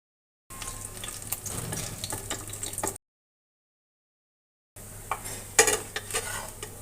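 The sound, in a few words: frying wax gourd flower pitha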